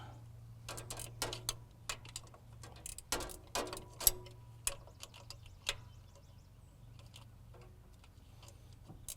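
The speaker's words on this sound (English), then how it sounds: "Am I able to get my ratchet end in there?" A ratchet wrench works on a loose bolt on a truck, giving a series of sharp, close clicks and clacks in irregular bursts over a quiet background hum.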